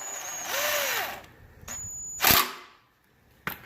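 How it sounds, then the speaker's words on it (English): A cordless drill fitted with a socket assembly tightens the oil drain plug on an ETQ 3000W generator, giving short close whirring bursts with sharp clicks between them and brief pauses. "I've got the socket assembly attached to my drill"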